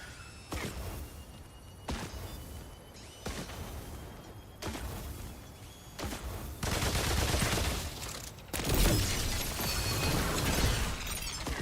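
Turrets firing in the space game The Dark Horizon, rapid bursts of gunfire and crackling impacts coming in waves, growing denser and louder toward the end, with no voices over them.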